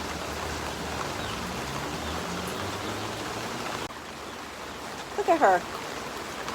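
Steady rain hisses outdoors on a backyard where chickens are out in the wet. The soft, even patter continues throughout, and a person speaks briefly near the end.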